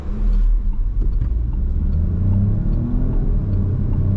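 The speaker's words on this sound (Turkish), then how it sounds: "Arka taraf trafik müsait olduğunda tapa gaz yapacağız." A 2024 Peugeot 3008 accelerates at full throttle, heard from the cabin as a dense, loud engine rumble with road noise building steadily, no voices over it.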